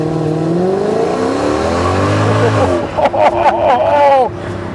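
A 2009 Mercedes-Benz CLS 63 AMG revs hard on a closed course in Mexico while its wheels slip, the engine note climbing in loud sweeps, then briefly choppy before rising again as voices exclaim near the end.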